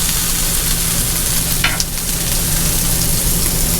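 Pork teriyaki fries in a pan while cooking in an RV, giving a steady close sizzle with a brief stir or clatter partway through.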